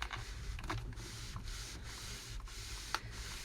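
Hot iron pushed and slid across a folded fabric seam edge, a steady soft rubbing scrape with a couple of brief clicks, close and fairly quiet.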